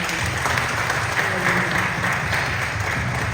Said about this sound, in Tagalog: Pwede bang the best na palakpak sa Diyos?